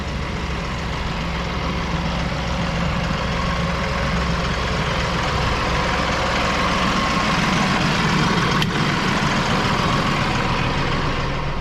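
A Mahindra 6065 PST 4x4 cab tractor idles in a parking lot, its diesel engine giving a steady, close, low rumble that holds unchanged throughout with no talking over it.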